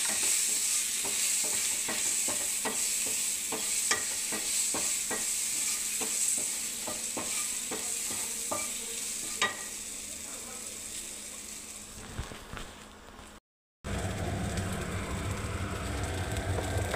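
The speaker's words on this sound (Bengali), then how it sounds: "এই দেখুন, পরিমাণ মতো বন্ধুরা নুন দিয়ে দিচ্ছি। এবার আমি নাড়তে থাকবো এটাকে।" Salted eggplant fries in a pan for neem begun, a continuous sizzle under rhythmic scraping strokes as the pieces are stirred, with the stirring fading toward the end and a brief cut.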